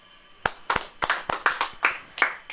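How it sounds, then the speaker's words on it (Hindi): A handful of sharp, distinct claps ring out from a church congregation, about nine uneven beats in quick succession, close and crisp with short decays. "ताली बजाएं"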